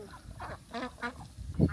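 A few short, quiet nasal quacks from ducks near water on a farm keeping snails, spaced unevenly over a soft background.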